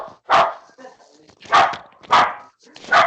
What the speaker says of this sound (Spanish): Mi perrito no me deja escuchar.